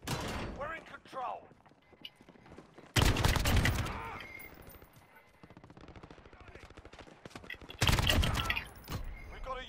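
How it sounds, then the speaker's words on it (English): Gunfire in the Call of Duty Modern Warfare beta: two loud bursts of rapid automatic fire stand out, with quieter shots and game noise between them and people talking at times. "I don't know what gun I picked, but it literally, I shot him 7 times and he didn't die"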